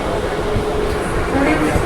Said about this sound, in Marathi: तुम्हाला लोकल ट्रेनमध्ये बसलेला आम्ही व्हिडिओ दाखवतो.